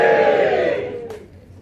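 A comedy club audience at Bearcat Comedy in Twickenham lets out a loud collective cheer and whoop that tapers off over a second or so, leaving low murmuring behind.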